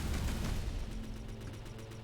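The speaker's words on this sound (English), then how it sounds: "Ah, the lovely sound of looping explosions." Explosions loop in a space video game, a dense burst of booming blasts at the start easing into a steady, muffled rumble with faint repeating thumps, fairly quiet and without speech.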